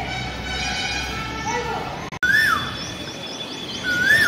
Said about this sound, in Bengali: খুব মিষ্টি একটা কোকিলের ডাক